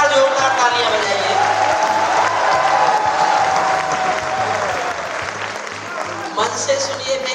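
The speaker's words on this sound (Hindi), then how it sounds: "एक बार जोरदार तालियां बजाइए।" A large crowd at a Hindi poetry recital applauds loudly and continuously, dense clapping that stays steady for several seconds with a low hum from the sound system underneath.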